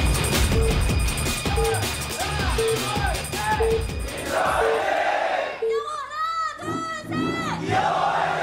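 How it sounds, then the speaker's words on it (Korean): A large crowd at a StarCraft league semifinal match (ASL3) roars and cheers loudly and continuously, with shouting voices rising and falling over a steady wall of crowd noise throughout. "여러분의 뜨거운 박수!"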